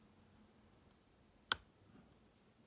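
A Vidmar Sea SL-10 two-row slider lock being picked gives one sharp, faint click from a pin against a near-silent background, with no talking.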